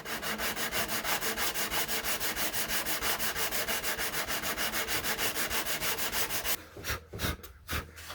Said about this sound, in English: all we do is very lightly sand the edge